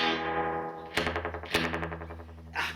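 Distorted electric guitar notes ring out through a splashy amp reverb, each strike trailing into a drawn-out echoing wash.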